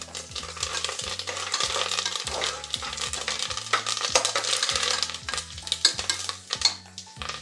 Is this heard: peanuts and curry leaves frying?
yes